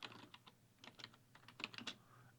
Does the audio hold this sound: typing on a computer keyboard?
yes